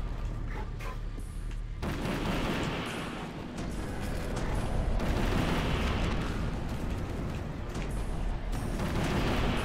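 Mini nuke explosions in the boomer shooter game Incision: a sustained, dense roar of overlapping blasts and rumbling detonations, loud and continuous with slight swells, with no voices.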